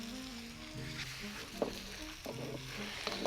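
Spring onions sizzle in a pan just off the heat after stir-frying black pepper chicken lo mein, a steady soft hiss with a few clinks of a utensil.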